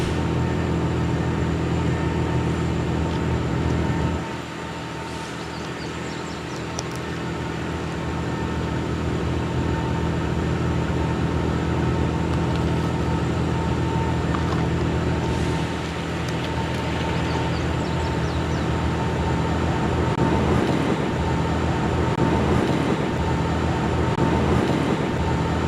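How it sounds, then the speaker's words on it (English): A southbound Ohio Pacific intermodal freight train led by an EMD SD45R locomotive, a steady low rumble of rolling cars and engine drone held at moderate distance, continuous throughout with slight swells and no talk. "a southbound Ohio Pacific intermodal train led by SP 8803"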